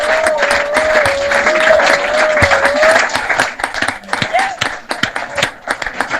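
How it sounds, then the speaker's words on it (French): A congregation at a ceremony honouring Reverend Pastor Caleb Ngoa Atangana claps loudly and steadily, with a sustained voice held over the first half of the clapping, which then turns more ragged and uneven. "applaudissons pour le Seigneur"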